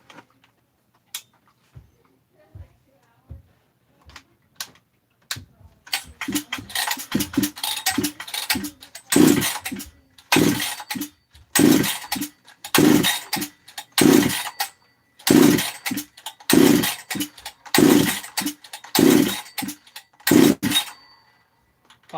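A ported Husqvarna 272XP chainsaw is pull-started with several sharp tugs that sputter, then catches and fires in loud, repeated bursts of revving with brief drops between, close and alone.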